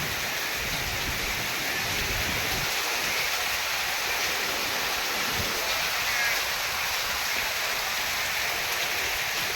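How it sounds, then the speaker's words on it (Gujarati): A steady wash of heavy rain pours down on flooded farm fields, broad and hissing, with some low rumbling gusts early on and no clear talking. "જો વરહે છે"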